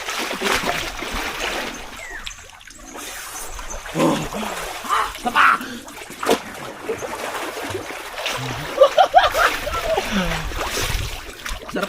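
Water splashes and sloshes in a swimming pool with irregular bursts of movement, close by, while people talk intermittently over the watery churn.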